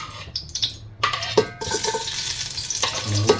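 Garlic frying and being stirred in a pot for pork sinigang, a steady close sizzle with scraping clinks of a utensil against the pot.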